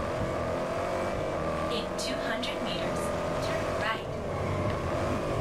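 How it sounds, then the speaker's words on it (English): A Jaguar F-Type in Test Drive Unlimited Solar Crown holds a steady engine drone under continuous road and tyre noise, with brief shifts in pitch, while someone talks over it. "So I'm driving with the Jaguar F-Type that we got by joining the streets."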